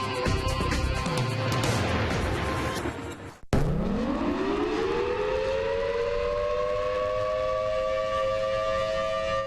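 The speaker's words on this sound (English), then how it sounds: "You hear the siren, a warning that severe weather is on the way." A civil defense siren in southeastern Michigan, warning of severe weather, wails loudly, briefly cutting out, then winding back up in a rising tone that settles into a sustained steady howl.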